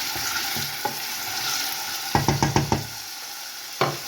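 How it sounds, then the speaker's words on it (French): Mushrooms and red onions sizzle steadily in a frying pan while a utensil stirs them, with a quick run of knocks against the pan and a final tap near the end. "Là, on va bien mélanger."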